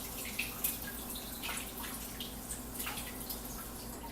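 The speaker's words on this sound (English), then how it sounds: "I'll run it under some cool water" Cool tap water runs steadily over a heated PVC bow limb, a constant close hiss of flowing water with scattered small drips and splashes throughout.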